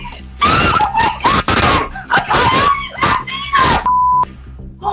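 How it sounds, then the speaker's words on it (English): A man yells loudly on a home security recording, his shouting covered by a steady censor bleep near the end, amid gasps and chaotic cries over several bursts. "So that bleep was Tommy Lee running into the frame and yelling the F word."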